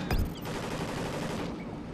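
Video game gunfire aimed at the player, a sharp close shot followed by a dense rattle of rapid firing that continues throughout.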